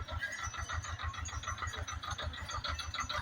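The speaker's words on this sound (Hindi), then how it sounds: "और ये ट्रैक्टर लेके उतर रहे हैं ऐसे" A tractor engine chugs in a low, rhythmic throb as it drives down a steep, dangerous off-road mountain track, steady and mid-distance with faint rattles over it.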